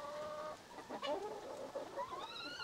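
Dominant CZ chickens cluck and call softly at feeding time, a small flock chattering close by with rising squawks and no talk over them.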